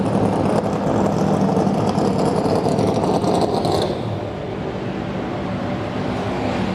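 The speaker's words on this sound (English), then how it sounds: "AJ Allmendinger pulling in next to him." A NASCAR stock car rolls into the garage area at Texas, its engine a loud, steady rumble that eases off slightly partway through as the car slows, with no talk over it.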